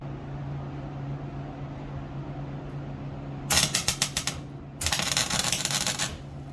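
A MIG welder on a custom steering build fires two short bursts of crackling arc with a brief pause between them, sputtering and uneven from too much wire and too little gas, over a steady low shop hum.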